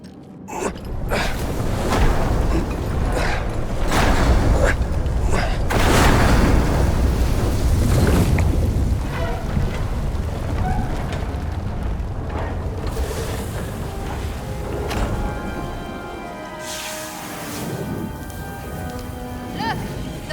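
Molten metal pours into a mold at a blazing forge in an Indiana Jones game, a steady roaring, crackling rush that runs loud throughout, with voices talking over it.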